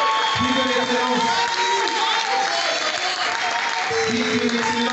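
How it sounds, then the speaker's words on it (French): Crowd applause and cheering swell at an awards ceremony, loud and continuous, while a voice talks over the clapping and tonal music sounds underneath. "Sous nos applaudissements, prix de l'excellence"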